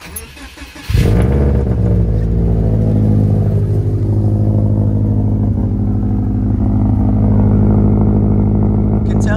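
A car engine cranks and catches after a second of quiet, then settles into a loud, rough, continuous run with slight revving swells, close to the listener.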